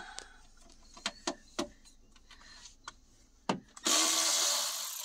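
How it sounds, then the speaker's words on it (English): A power driver with a T30 Torx bit loosens bolts on the battery panel of a 2019-or-later Mercedes Sprinter 907 van. Several sharp clicks and knocks come first, then a loud, steady whirring burst near the end. "You gotta at least loosen up all four of these bolts. And for that, you will need a T30."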